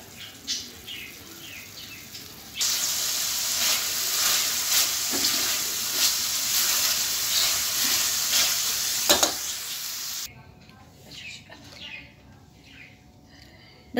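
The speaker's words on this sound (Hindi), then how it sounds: "बस आपने इतना ज़्यादा इसको भूनना है कि वो बिल्कुल भुन जाए अच्छे तरह से।" Tikka masala mixture fries in a pan with a bright, hissing sizzle that swells in for about eight seconds, broken by stirring scrapes, then drops to a quieter crackle while birds chirp faintly in the background.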